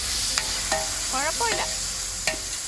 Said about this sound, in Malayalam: ഇത് നമ്മൾ വിറക് വെച്ചിട്ട് കത്തിക്കുന്നത് കൊണ്ട് തന്നെ ഇതുപോലെ ഒന്ന് ഇളക്കി കൊടുക്കണം